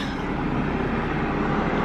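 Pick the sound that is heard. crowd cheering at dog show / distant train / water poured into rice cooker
distant train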